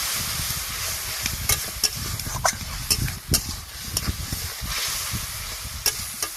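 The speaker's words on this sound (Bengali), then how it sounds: "এবারে সামান্য পরিমাণ একটু জল দেবো, দিয়ে মশলাটা ভালো করে কষিয়ে নেব।" Spice paste with a little water fries in a pan with a continuous close sizzle, punctuated by repeated scraping strokes of a stirring utensil throughout.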